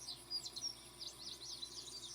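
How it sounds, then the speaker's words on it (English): Birds chirping and tweeting in short, repeated high calls, fairly faint and steady against a quiet outdoor background, with no talk. "You come out of your trance to birds calling around."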